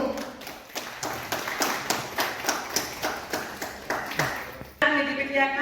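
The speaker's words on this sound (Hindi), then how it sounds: "महिलाओं के लिए, हम लोगों के लिए जोरदार तालियां देनी चाहिए दोस्तों" Audience clapping at a women's honour ceremony, a steady run of fairly regular claps with a few hands joining, ending abruptly as a different sound cuts in near the end.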